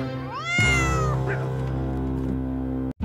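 A person imitates a cat with a long, loud, rising-then-falling meow close to the microphone, a drawn-out caterwaul ending in a sudden cutoff.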